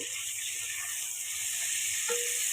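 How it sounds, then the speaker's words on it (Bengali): Potatoes with turmeric fry in oil with a soft, continuous sizzle and faint crackles, close and fairly quiet, with no voices. "ব্যাস এটা একটু ভাজা ভাজা হোক"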